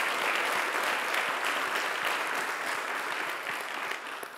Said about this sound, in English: Yes, applause is very much merited.